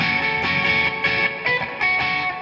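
An electric guitar is played clean without distortion, picking a short riff as notes ring in repeated bursts, close and alone.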